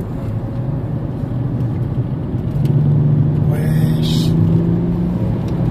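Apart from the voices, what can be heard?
car driving fast on the Nordschleife track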